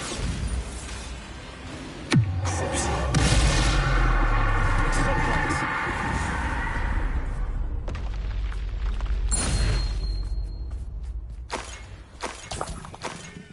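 Bombarda spell explosions in the video game Hogwarts Legacy, with a sharp blast at about two seconds and another near nine seconds, followed by rumbling debris. Game ambience runs underneath, and a voice speaks briefly.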